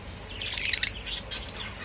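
Lutino red-head red-eye breeding pair of pet birds calls out in a quick burst of bright, high chirps midway, followed by a few softer tweets against a low background hum.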